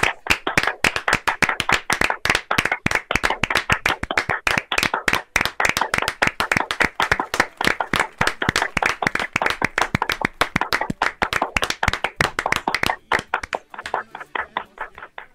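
A studio audience claps steadily for a long, dense stretch of sharp, close hand claps, fading out near the end.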